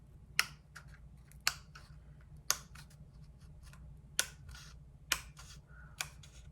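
Scissors snip through paper in about seven crisp, quiet cuts spaced roughly a second apart, alone in a still room.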